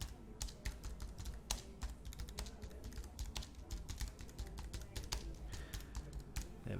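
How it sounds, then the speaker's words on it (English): Rapid, irregular keystrokes on a computer keyboard as text is typed into a salon booking app's social media post description, close and steady throughout with no talking. "So we'll type some text in."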